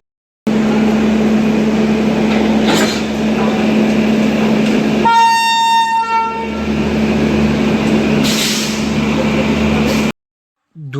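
A train at Sealdah railway station in Kolkata rumbles loudly and steadily nearby, with a long horn blast in the middle and another near the end before the sound cuts off abruptly.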